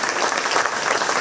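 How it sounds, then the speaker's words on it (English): A crowd at a 4-H pie and muffin auction at the Shelby County Fair applauds, a dense, loud burst of clapping filling the whole moment. "Let's give a nice round of applause for Olivia Jens"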